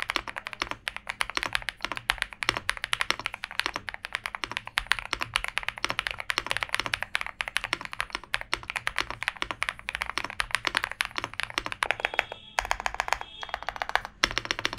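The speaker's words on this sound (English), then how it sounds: "This is an amazing sounding keyboard" Typing on a VGN V87 wireless mechanical keyboard, a dense rapid run of crisp key clacks throughout, with a quick burst of faster strokes near the end, alone with no talk.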